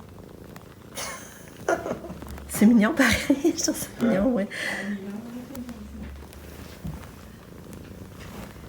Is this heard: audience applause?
no